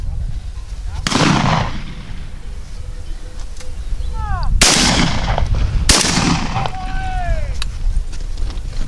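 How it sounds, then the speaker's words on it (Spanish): Shotguns fire at a dove and partridge shoot in open country, three loud sharp blasts spaced a few seconds apart, each ringing out over wind and faint outdoor noise. "parece que estamos pegando más tiros, según vamos avanzando."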